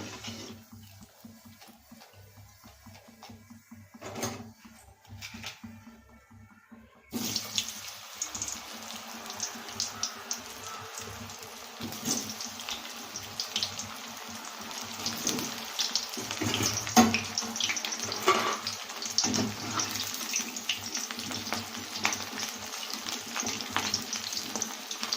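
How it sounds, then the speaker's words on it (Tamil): Young jackfruit pieces frying in hot oil for biryani, a steady bubbling sizzle that starts quietly and swells loud after a few seconds, continuing close with occasional crackles and stirring. "இந்த மாதிரி நம்ம வந்து சில்லி பீஸ் மாதிரி நம்ம வந்து பொரிச்சு எடுத்துக்கணும்"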